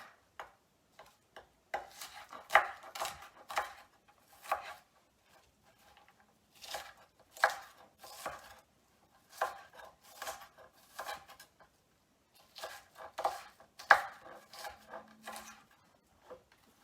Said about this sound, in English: Onions have never been my favorite to cut.